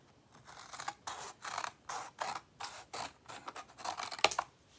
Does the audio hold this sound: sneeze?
no